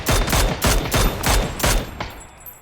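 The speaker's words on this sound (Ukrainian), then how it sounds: "Снайпер працює." Sniper rifle fire in the battle royale game PUBG during a 40-versus-40 clan battle: five or six sharp, booming shots spaced about a third of a second apart, each with a short echoing tail, fading out at the end.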